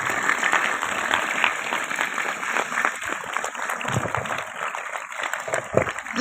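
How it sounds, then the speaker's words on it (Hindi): Loud applause from a school audience at an Engineer's Day event, dense clapping that carries on steadily, with a few sharper nearby claps near the end and a faint background tone. "ऐसे दोनों भी इंजीनियर्स के लिए हम एक बार जोरदार तालियां बजाते हैं।"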